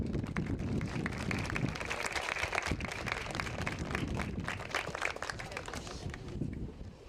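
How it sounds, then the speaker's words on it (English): A crowd claps at a high school softball game between Western Hills and FCHS. The applause is dense and steady for about seven seconds, with individual claps snapping through, then thins slightly toward the end. "One more round of applause for the Sandifer family"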